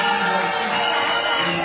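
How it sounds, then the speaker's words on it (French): Loud, continuous applause from a crowd at a public district planning event, a dense wash of clapping filling the whole short moment with no break. "Donc je vous demande de l'applaudir."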